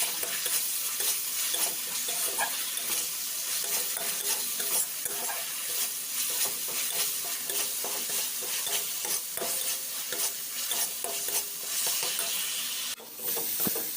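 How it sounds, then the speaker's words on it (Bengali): Spice masala frying in oil and being stirred for a prawn and taro-leaf (kochu shak) dish, a loud continuous sizzle with constant stirring scrapes, close and dense, with a brief dip near the end. "ভালো মতন নাড়াচাড়া করে নেব। দেখুন মশলা থেকে হালকা হালকা তেল ছাড়তে শুরু করেছে। এটা আর একটু কষিয়ে নেব।"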